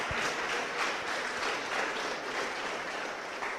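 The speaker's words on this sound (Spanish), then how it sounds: "Dale la ofrenda de aplauso al Señor." Church congregation applause during a sermon, a dense, continuous patter of many hands clapping at moderate volume from start to finish, with no voices standing out.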